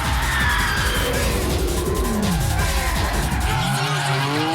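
Car drifting through corners in a Fast & Furious street-racing scene, with continuous tire squeal and skidding over a revving engine, loud and close and sustained throughout.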